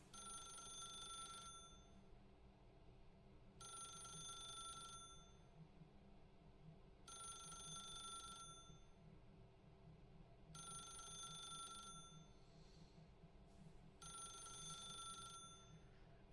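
A telephone rings in The Stanley Parable, left unanswered: five evenly spaced bursts of a bright electronic bell, each about a second and a half long, separated by pauses and set over a low, steady background hum.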